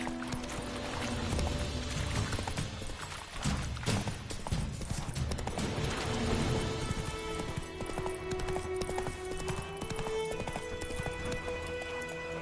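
Roach, the horse in the Witcher 3 video game, gallops with rapid rhythmic hoofbeats on the ground, with a brief whinny and faint rain-like patter in the background.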